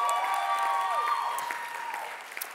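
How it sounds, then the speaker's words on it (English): Audience applause for the contestants at the Aviano Idol 2022 finale, a soft, thin patter of clapping under a lingering sustained musical tone that fades toward the end, with a few sharper claps near the close. "let's give all of our contestants another big round of applause."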